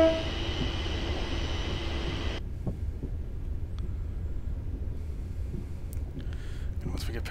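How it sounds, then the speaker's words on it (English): Train in Train Simulator 2015 on the Glasgow Airport Rail Link, a steady low rumble of running gear that continues throughout, with a brighter whine cutting off early and faint clicks later on. "we're clearing that line where this train's going through."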